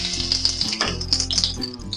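Bay leaf and carrot frying in hot oil in a pan, a steady close sizzle with crackling bubbles throughout.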